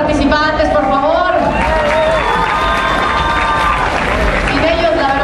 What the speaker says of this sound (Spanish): aplauso otra vez para todos los participantes, por favor